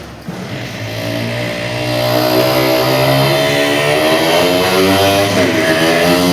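A human voice imitates a motorcycle roaring around a well-of-death ride at a fair, producing a loud, sustained engine drone that swells and wavers in pitch as if circling the wall, with no other sounds.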